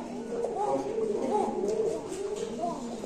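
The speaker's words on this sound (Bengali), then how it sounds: "আমেরিকান কক্কা কবুতর" American kokka pigeons coo in soft, repeated rolling calls from close by, with a steady murmur of other birds and a voice talking underneath.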